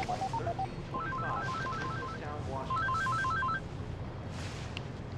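A cell phone rings with a melodic ringtone: short stepped tone patterns repeat in two bursts over a muffled indoor background.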